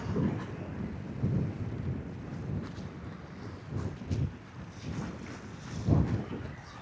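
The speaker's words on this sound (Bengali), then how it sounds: "শুধু বাতাস আকাশ মেঘলা" Wind blowing steadily at a riverside estuary under a cloudy sky, with low rumbling gusts that swell and fade across the clip and buffet the microphone, and no speech.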